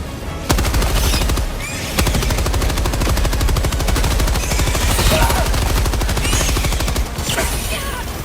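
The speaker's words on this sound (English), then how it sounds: "Requesting sentry." Rapid automatic sentry turret fire in Helldivers 2, a sustained loud rattle of gunshots with a few heavier bursts layered over continuous battle noise.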